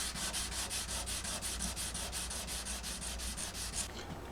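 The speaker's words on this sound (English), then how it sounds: "First I start with 80, I go to 120, and then lastly 220 and 320 grit on a foam block." Guitar wood on a 1987 Gibson J-30 is sanded with sandpaper on a foam block, a close, quiet scratchy rasp in about fifteen even back-and-forth strokes that stops near the end.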